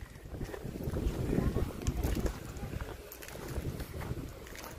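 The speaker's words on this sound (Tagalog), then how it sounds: "Malakas ang hangin." Strong wind gusting across an open outdoor area, a steady broadband roar with low rumbling buffets that swell and ease, close and fairly loud, with no clear voices.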